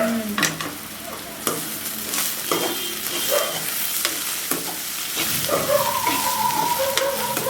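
Chopped onions fry and sizzle in a pan for chicken biryani while a spoon stirs them with repeated scraping strokes, close and steady, with no talking.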